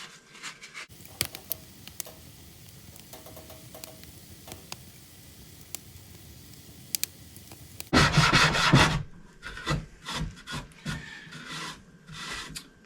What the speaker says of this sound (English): So now I just have to sand it